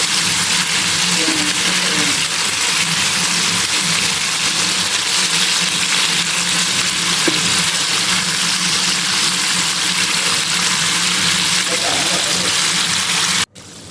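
Crispy KFC-style chicken pieces frying in hot oil give a steady, dense sizzle and crackle that runs loud and unbroken throughout, with a faint voice now and then underneath.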